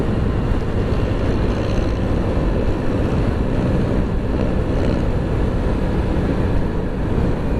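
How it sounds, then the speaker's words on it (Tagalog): Strong wind buffets the microphone while riding, a steady loud low roar that fills the whole stretch with no talk over it. "Lakas hangin."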